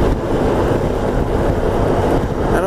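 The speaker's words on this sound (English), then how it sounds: "Alright, got a little windy." Heavy wind buffets the microphone during a ride on a 1994 Honda ST1100 motorcycle, a loud, continuous roaring rush with no pauses, close and constant throughout.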